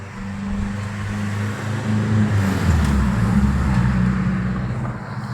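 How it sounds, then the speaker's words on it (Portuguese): A car drives past a house gate at night, its low engine and tyre rumble swelling to a peak midway and then fading slowly as it moves away. "vou passar um carro aqui pra vocês ouvirem o carro também"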